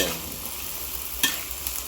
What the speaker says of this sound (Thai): ตอนนี้ผักเริ่ม ยุบแล้วนะครับโอ้เต็มกระทะเลย